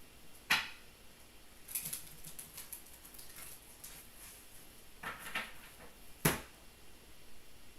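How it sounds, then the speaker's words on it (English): Tarot cards are shuffled for a reading in a quiet room, giving a few soft riffling and tapping bursts spaced a couple of seconds apart, faint and close with no talk. "One more shuffle."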